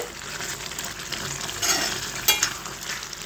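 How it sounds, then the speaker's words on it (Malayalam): Bitter gourd curry boils in a pot with a close, steady bubbling hiss. A couple of slightly louder surges break through briefly. "രണ്ട് മൂന്ന് മിനിറ്റ് നല്ലോണം തിളച്ച് എല്ലാം സെറ്റായിട്ടുണ്ട്"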